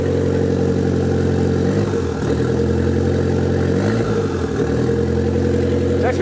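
A Nissan 200SX engine idles steadily and close by with a smooth, even rumble, its pitch dipping briefly twice in small wavers, with no talking over it.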